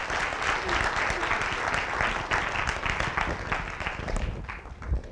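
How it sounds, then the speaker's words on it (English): An audience at a symposium applauds steadily for about five seconds, a dense wash of many hands clapping at once, with faint voices under it. "Let's give a round of applause for Dr. Anthony Gifuni."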